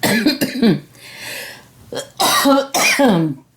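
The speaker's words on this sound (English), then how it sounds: "the recorder and I start coughing" Several sharp coughs in quick bursts, close and loud, with pauses of quiet breathing between them.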